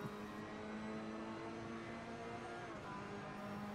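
Ferrari GT race car from Assetto Corsa Competizione at full throttle on the Nurburgring GT circuit's main straight, a steady sustained engine drone with held tonal harmonics, loud and continuous with no talk.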